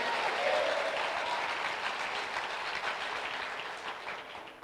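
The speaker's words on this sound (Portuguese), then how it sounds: "Quantos podem dar um aplauso bem forte ao Senhor?" A church congregation claps loudly and steadily together, a dense sustained burst of applause filling the space, slowly easing off toward the end.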